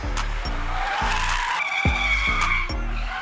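A sports car brakes hard in an emergency stop with its tires skidding, a sustained high squeal rising over a loud, rumbling engine roar that pulses and surges throughout.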